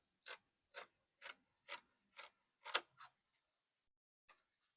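Scissors snip fabric along the front neckline of a straight kaftan dress: seven crisp, evenly spaced cuts in a row, then a pause and one more snip, quiet and close.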